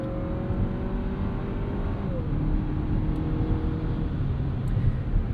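Turbocharged engine of a 2025 Lexus NX 350 compact SUV under kickdown acceleration while merging in city traffic, heard from inside the cabin as a steady, full low drone over road and wind noise.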